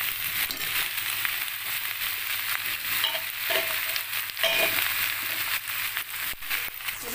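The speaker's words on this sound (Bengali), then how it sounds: "জল ঝরিয়ে রাখা পুঁই শাকটা আমি দিয়ে দিলাম।" Drained malabar spinach frying in a pan with fish head and vegetables, a steady close sizzle with scraping stirs running throughout, no voices.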